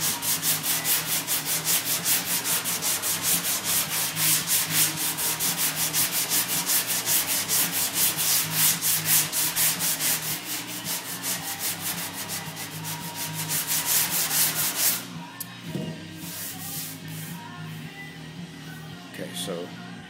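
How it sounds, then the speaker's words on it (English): Sandpaper rubbing steadily over a surface to feather a hard edge into filled low spots, a dense continuous scraping that runs loud and rhythmic, then thins to lighter, sparser strokes near the end. "So if we sand that a little bit more."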